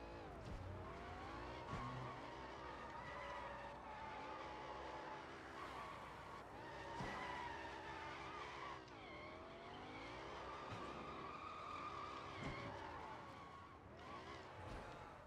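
A race car engine revs and skids in a video game, with sustained tire squeal and shifting engine pitch over a steady, loud driving roar.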